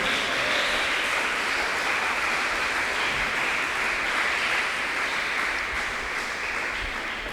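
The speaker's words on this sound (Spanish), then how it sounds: "Dele un aplauso al Señor." A church congregation gives sustained, dense applause, a loud, even wash of many hands clapping without pause and tapering only slightly toward the end.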